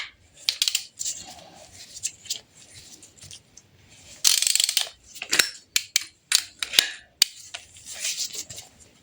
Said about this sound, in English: this is a special tool for removing and installing studs